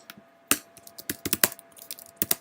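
Keys clack on a computer keyboard during a programming lecture, with irregular bursts of close, crisp taps separated by brief pauses and a faint steady hum behind them.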